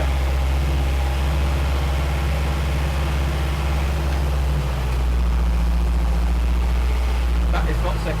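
An old Unimog truck engine runs steadily with a low heavy drone while the driver tries to shift into second gear, a constant loud rumble throughout.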